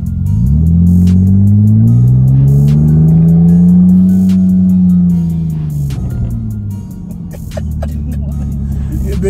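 Custom 2009 Nissan Maxima with a 3.7 liter engine accelerating hard, a loud close engine note climbing and then easing off, with faint voices underneath.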